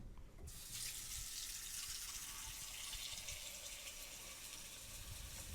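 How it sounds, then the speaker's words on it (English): Water runs from a kitchen sink tap into a cooking pot, a steady, fairly quiet rushing stream that starts abruptly and continues evenly to the end. "We're going to take the pot over to the sink and fill it with water just to cover the eggs."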